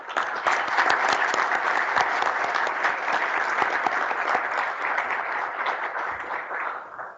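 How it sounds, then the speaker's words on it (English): A forum audience in San Antonio applauds the event sponsors, a full, sustained round of clapping from a sizable crowd that stays loud and even before tapering off at the end. "Please join me in recognizing the sponsors with a round of applause."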